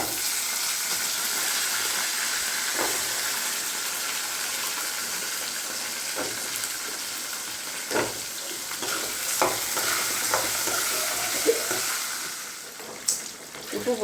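Onions sauté in a pan while being stirred for a pirandai thuvaiyal, a steady close sizzle with scraping stir strokes and a few clanks toward the end.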